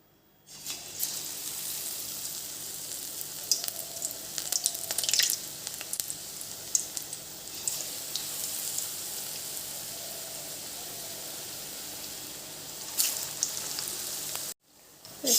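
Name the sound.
battered eggplant fritters (beguni) frying in a hot wok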